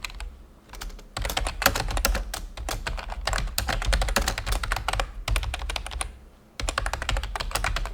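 A prompt is typed on a computer keyboard in rapid, continuous bursts of close, crisp clacking, broken by two brief pauses, with no talking.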